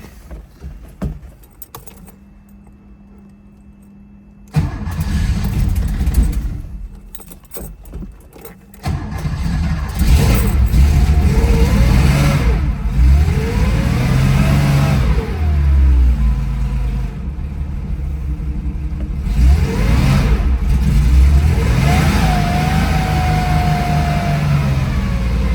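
A carbureted 1970 Porsche 914-6 engine is heard cranking and catching, then running loud and close with several rising revs over a steady idle.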